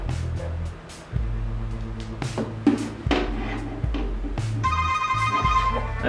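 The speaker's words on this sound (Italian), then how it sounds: "Ecco che squilla il nostro telefono" Smartwatch ringing with an incoming phone call, a repeating electronic ringtone melody with rising and falling tones over background noise.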